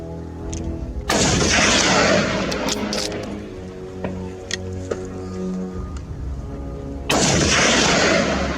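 Hunters fire on feral hogs in open Texas country: two loud, booming gunshots several seconds apart, each trailing into a long rumbling echo, with faint clicks and handling noises between them.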